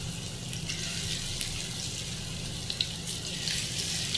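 Taro fritters (kochur bora) fry in a shallow layer of oil with a steady, close, crackling sizzle and small spitting pops, and the sound holds even throughout.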